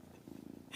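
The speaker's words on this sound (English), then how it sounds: "I found this purring loaf." A house cat purrs up close, a very brief low rhythmic rumble, faint and soft, ending with a short burst of rustle.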